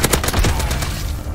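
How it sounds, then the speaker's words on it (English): Rapid bursts of automatic gunfire from enemies in the shooter game Warzone, close and loud, with fast repeated shots over a low rumble and no talk. "Ooh, they're shooting."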